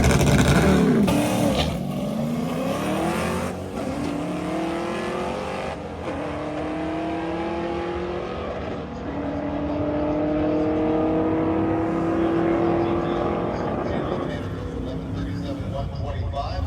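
Loud street-legal drag race cars roar and rise in pitch as they accelerate down the strip at a drag racing event, sustained and close, with a voice talking over the noise.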